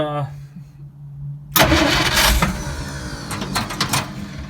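A 1941 Dodge truck fitted with a 12 volt starter and push button, with a carburetor needing work, starts up: a brief voice and a low hum, then a sudden loud burst of cranking that settles into a rough, rattling run nearby.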